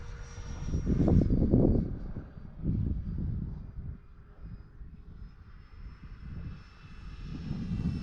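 A Freewing F-16 V3 RC jet in arctic camo, running a 4,000 mAh 80C battery, flies past with a loud rushing whine that swells and fades in repeated waves alongside wind noise.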